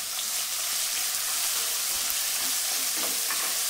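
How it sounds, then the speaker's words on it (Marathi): Finely chopped small onions dropped into a hot pan for mutton kheema biryani, frying with a steady, dense sizzle throughout, close and fairly loud with a few faint stirring clicks and no voices. "आता आपण याच्यामध्ये 2 छोट्या आकाराचे कांदे बारीक चिरून घेतले ते टाकून घ्यायचे।"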